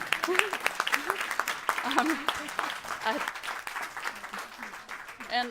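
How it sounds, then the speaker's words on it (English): A workshop audience claps for a woman, a scattered round of applause running beneath someone speaking throughout. "I think she deserves a round of applause."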